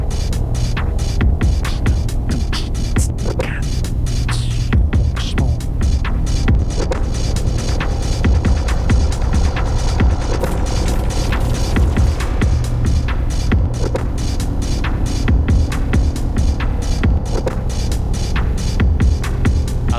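A drum machine synced to a tape loop plays back as a dense, steady rhythmic pattern of sharp clicking hits over a constant low throbbing hum, with crackle throughout.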